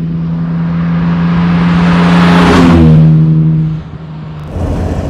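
A 1955 Jaguar XK140 DHC with original paint and leather drives past on a test drive, its engine note rising loud and close, then dropping away as the car passes and recedes.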